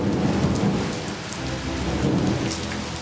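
Heavy rain pours steadily and close with rolling thunder rumbling underneath throughout, a dense, continuous storm with no voices.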